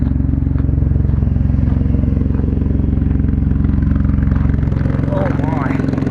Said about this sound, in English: Definitely got an exhaust leak.